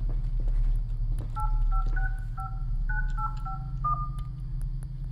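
DTMF tones dial a phone number in the Krampus horror video game, a quick sequence of paired beeps over a steady low game hum and background ambience.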